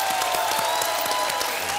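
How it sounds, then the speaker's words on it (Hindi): Studio audience of a Hindi TV game show breaking into applause, a steady, bright patter of many hands with faint cheering mixed in, brief and continuous. "तालियां"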